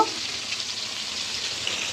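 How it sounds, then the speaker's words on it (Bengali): Cabbage and soybean ghonto frying in a pan, a steady, close hiss of sizzling oil with light stirring throughout, no voices. "আমাদের এই যে রান্না হইতেছে একটা জিনিস এটা হচ্ছে বাঁধাকপি দিয়ে সয়াবিন দিয়ে একটা ঘন্ট"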